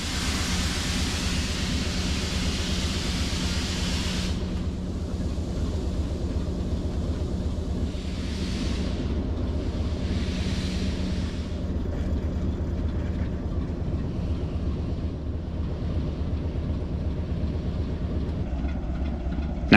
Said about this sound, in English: let's just enjoy the departure of the Class 4 with its train